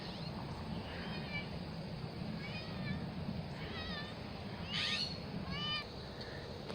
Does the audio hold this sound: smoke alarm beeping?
no